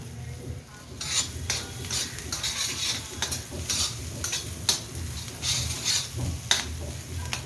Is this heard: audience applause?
no